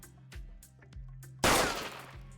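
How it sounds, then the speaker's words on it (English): A single loud gunshot sound effect bursts out with a sharp noisy blast that decays over about a second, following a quieter stretch of low rhythmic thumps and clicks. "I'll play the gunshot sound effect."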